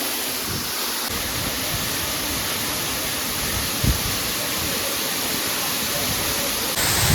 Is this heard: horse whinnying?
no